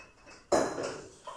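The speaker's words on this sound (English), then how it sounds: "we stir vigorously" Plant biomass mixture stirred vigorously in laboratory glassware for lignin extraction: a sudden close clatter opens into a sustained swirling, scraping rattle, with a second small knock near the end.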